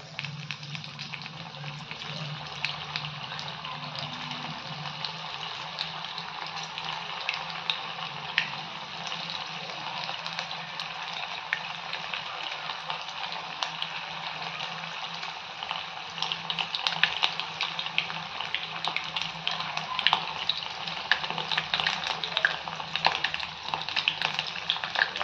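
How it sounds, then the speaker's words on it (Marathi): Paneer pieces deep-fry in hot oil for a restaurant-style paneer chilli, making a steady, dense sizzle and bubbling hiss that holds without a break and grows slightly louder toward the end. "आता आपण एक एक पनीरचे तुकडे तळून घेऊयात."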